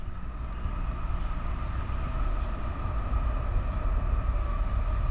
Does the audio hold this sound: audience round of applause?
no